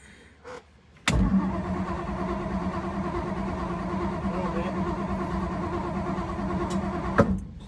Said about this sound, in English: I'm gonna crank it.